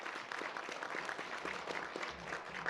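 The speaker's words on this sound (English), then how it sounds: "I think they deserve a warm round of applause." Warm audience applause, a short, even patter of many hands clapping at moderate volume from start to finish.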